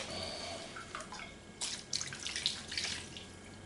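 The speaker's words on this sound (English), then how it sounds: "pour it over my venison strips, my meat, and I'll just pour that over the top of it" Marinade is poured over strips of venison jerky meat in a bowl, making a soft, wet splashing and trickling sound that grows louder in bursts toward the end.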